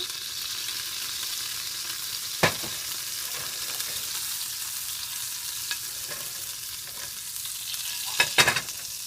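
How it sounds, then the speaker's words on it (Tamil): Cashews and peanuts roast in a little ghee with a soft, continuous sizzle, broken by an occasional spoon scrape and a cluster of clinks near the end. "நான் அந்த முந்திரி பருப்பும் கடலைக்காயும் நல்லா வறுத்துக்கிறேன்"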